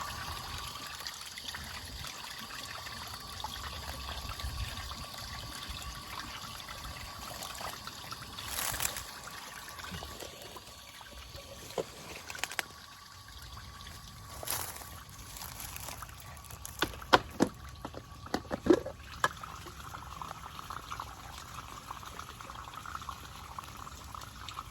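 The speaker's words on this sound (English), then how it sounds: "we're going to unscrew that to drain all of the water out of the" Water trickles and dribbles out of a Hayward pool cartridge filter after a drain screw at its base is loosened, a faint, steady outdoor flow with a few scattered clicks and knocks.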